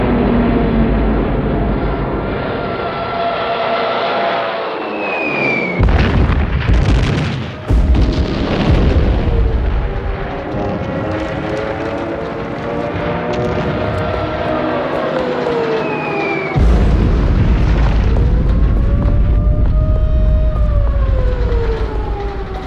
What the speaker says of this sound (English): On the 25th of September, Hitler orders the bombing of Warsaw.